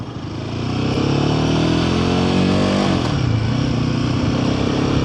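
A Royal Enfield Himalayan 450 motorcycle ridden on the road, its single-cylinder engine loud and steady as it rises through revs, with a brief dip and pitch change around a gear shift.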